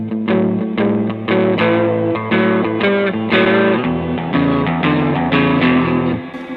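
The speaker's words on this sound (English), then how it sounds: "the shimmer one is a little bit of extra glimmer to your tone" An electric guitar plays sustained chords and melody through a Tomsline shimmer effect pedal, shimmering and chorus-like, loud and continuous before fading at the end.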